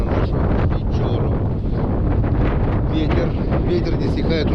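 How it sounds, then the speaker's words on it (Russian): Strong, steady wind on the Pechora River buffets the microphone with a constant low roar and gusty rumble throughout. "Ветер не стихает уже неделю."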